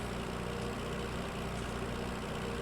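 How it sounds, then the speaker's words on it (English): A tractor engine in the farming video game Eire Ireland v3 hums in a steady low rumble, close and unchanging for a few seconds with no voices. "I'm coming down in the tractor now."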